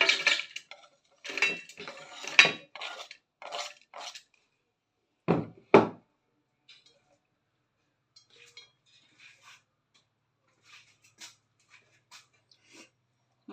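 Dishes clatter as food is moved into a vessel in a home kitchen: a burst of loud clinks and scrapes in the first six seconds, then sparse faint ticks and taps.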